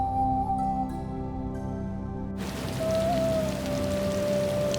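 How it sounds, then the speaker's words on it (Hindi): Rain falls on a high-altitude cafe shelter on the road from Leh to Hanle in Ladakh, a steady patter on surfaces near and clear, with faint steady tones beneath that shift partway through. "अब यहाँ थोड़ी थोड़ी बारिश रुक रही है।"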